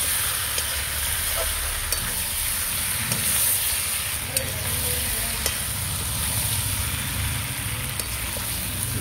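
Mutton browning with spices in a pan gives a steady sizzling hiss. A utensil scrapes and stirs at irregular intervals, with faint clinks over the continuous frying and no talk.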